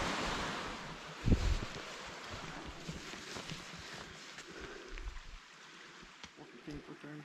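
Steady rushing water from a small cascade on the Appalachian Trail between Monson and Katahdin, Maine, heard outdoors with some wind noise and a brief knock near the start.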